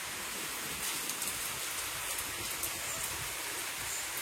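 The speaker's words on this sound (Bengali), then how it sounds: "এখনো বৃষ্টি হইতেছে, যে বৃষ্টি আর কমতেছে না" Heavy rain pours steadily in the morning, a dense, even hiss of drops hitting surfaces that holds constant throughout with no talk.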